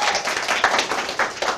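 Audience clapping at a live talk show, a brief dense burst of applause from many hands, close and fairly loud throughout.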